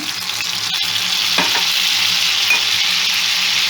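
Butter sizzling loudly in a pan as it melts and is stirred, with a couple of sharp utensil clicks and scrapes over the continuous frying hiss.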